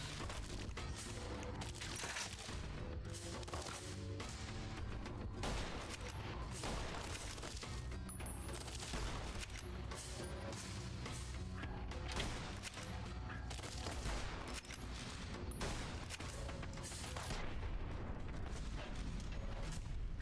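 Dense, continuous gunfire from Fallout: New Vegas, with rapid overlapping shots and booms throughout, loud and close, with no clear talk over it.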